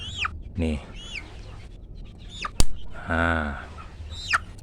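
Chickens cluck and squawk nearby in a series of short, irregular calls, with someone talking underneath and a brief sharp click partway through.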